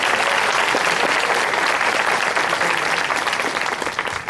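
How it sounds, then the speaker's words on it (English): Conference audience applauding a speaker being introduced at a UFO conference, sustained dense clapping from a large crowd that fades slightly toward the end. "So please, a big round of applause for Mr. Nick Redfern."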